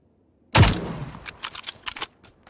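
Gunfire in PUBG: a single loud sniper-style shot cracks out abruptly, followed by a scatter of fainter clicks and clatter as the sound decays.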